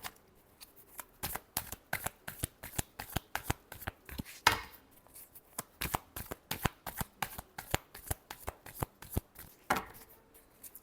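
Tarot cards being shuffled by hand, a close, quiet series of quick riffling bursts repeating in a steady rhythm for about ten seconds.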